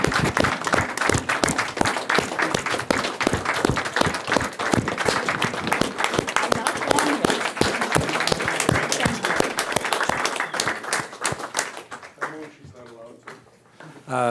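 Sustained applause from a county board meeting audience after a clerk announces her retirement, dense clapping filling most of the stretch before thinning and fading near the end, with some murmuring voices underneath.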